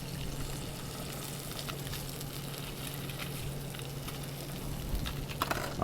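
Hog snapper fillets sizzle steadily in butter in a hot pan, a soft continuous crackle with a few louder pops near the end and no voices.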